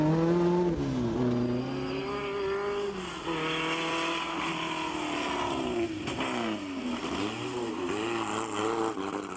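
Alpine Renault Berlinette 1800 Group 4 rally car driven by Bernard Darniche, engine revving hard with repeated rises and drops in pitch through gear changes, loud and sustained.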